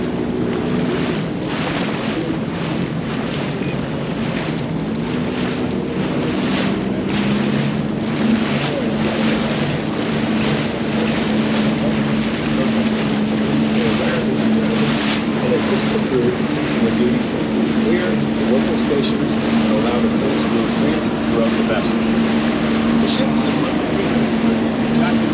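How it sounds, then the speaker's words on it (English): A Sea-Doo personal watercraft runs on Lake Erie with a steady engine drone, water rush and wind buffeting the microphone, continuous and loud throughout. "It's one of the things I really love about being on a Sea-Doo."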